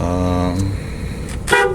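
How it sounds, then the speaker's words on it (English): Horn of a 1997 Coachmen Saratoga travel van on a Dodge B3500 chassis, giving a loud steady toot for about half a second, then quieter noise with a brief voice or click near the end. "Horn works."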